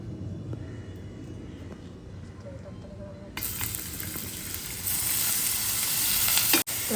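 Onions being dropped into hot oil for a dry fish dish give a low bubbling sizzle that turns abruptly louder and brighter partway through, a steady close crackle with a brief clatter near the end.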